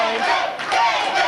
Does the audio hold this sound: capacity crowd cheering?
yes